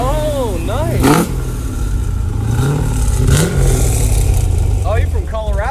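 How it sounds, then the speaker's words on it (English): A Mazda Miata sports car engine revs and rumbles in bursts near the listener, with people talking and exclaiming over the throaty exhaust fitted with adjustable butterfly valves. "You can actually adjust the volume of the exhaust."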